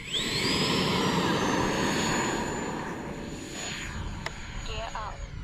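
An E-flite Viper RC jet flies overhead with a loud, sustained whine that rises sharply in pitch and then holds steady, heard at a moderate distance over outdoor background noise, with a few sharp clicks near the end.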